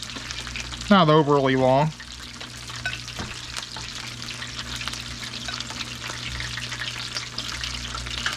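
Battered, bacon-wrapped squirrel pieces frying in a pan, a steady close sizzle with occasional pops, briefly overlaid by a short spoken phrase near the start.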